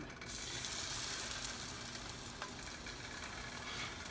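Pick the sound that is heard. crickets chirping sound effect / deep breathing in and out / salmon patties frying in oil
salmon patties frying in oil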